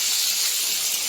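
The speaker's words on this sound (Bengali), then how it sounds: "এবার আলুগুলো দিয়ে দেবো।" Potatoes going into hot oil with fried spices, a bright, steady hiss of sizzling that holds evenly for a second or so, close and loud, with no voices.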